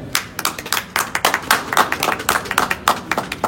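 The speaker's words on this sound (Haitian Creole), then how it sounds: "tonnerre d'applaudissements" Applause in thunderous acclaim: a small group claps rapidly and unevenly, close and loud, the sharp hand strikes overlapping throughout.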